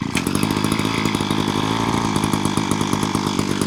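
A Wild Badger 52cc brush cutter's engine runs loud and close, its buzzing two-stroke drone holding steady throughout with a rough, sputtering edge.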